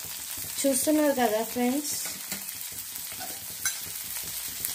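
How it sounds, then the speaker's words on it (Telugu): Onions and green chilies fry in hot oil with cumin in a pan, a steady close sizzle running throughout while someone speaks briefly over it near the start. "ఈ ఆనియన్స్, మిర్చి మొత్తం అన్ని వేసి బాగా ఫ్రై చేయాలన్నమాట"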